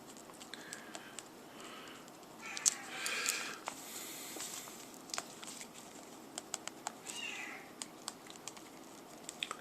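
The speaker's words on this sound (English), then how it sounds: "I have to watch this dumb cat here." A house cat gives a few soft, short meows in a quiet room, scattered among light tapping and clicking noises, all fairly faint.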